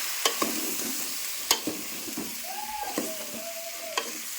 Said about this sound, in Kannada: ನಾವು ಇವಾಗ ಬದನೆಕಾಯಿಗಳನ್ನ ಹಾಕೊಳತ್ತೀವಿ ಎಲ್ಲ ಬದನೆಕಾಯಿನೂ ಹಾಕೊಂಡು ನೋಡ್ರಿ ಈಗ ಇದನ್ನು ತಿಳ್ಕೊಂಡ್ಬಿಡ್ತೀವಿ